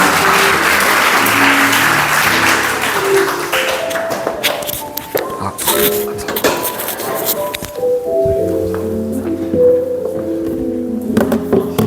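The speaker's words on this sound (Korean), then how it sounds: "큰 박수 부탁드립니다." Applause from an audience at a business presentation on AI automation, loud at first and then thinning into scattered claps while music with clear tones plays underneath.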